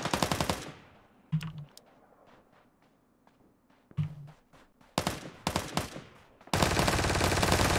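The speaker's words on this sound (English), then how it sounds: "Someone's shooting at me and I don't know." Gunfire in the video game Ring of Elysium: a long burst of automatic fire, then scattered single shots and short bursts, ending in a sustained loud volley, with a few quieter thumps in between.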